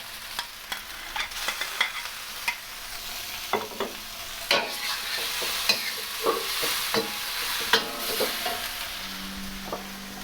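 Shrimp stir-fry in a hot wok for shrimp lo mein, a soft continuous sizzle broken by sharp scraping and clacking strokes of the spatula at irregular intervals, fairly close and with no voices.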